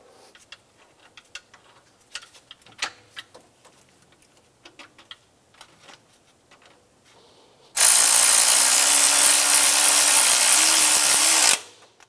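A power tool or ratchet runs steadily for about four seconds, loud and close, while a bolt is tightened on the alternator of a 2000-2006 Toyota Tundra 4.7L V8, after scattered faint clicks and taps.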